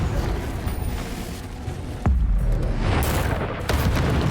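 A Confringo explosive spell goes off in Hogwarts Legacy as a loud, sudden boom near the middle. A sustained rumbling blast follows under busy game noise.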